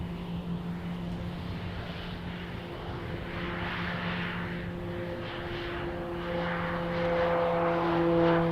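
An airplane's engines roar on takeoff from an airport during an early-morning departure, a steady droning hum that swells and grows louder toward the end, with no talking.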